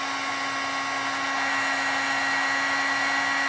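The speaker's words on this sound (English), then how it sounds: "I just want to make sure that my heat tool is nice and warm" An electric heat tool warming embossing powder blows a steady, close, loud whooshing hum with a constant tonal whine, unbroken throughout and with no voices.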